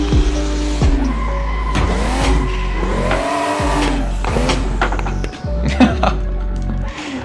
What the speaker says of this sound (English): I'm just gonna drift in this little parking lot.